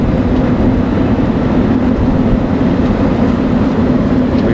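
A road milling machine of about 600-700 horsepower making a 2-meter wide cut, its loud, steady mechanical drone holding a low hum throughout with no breaks or voices.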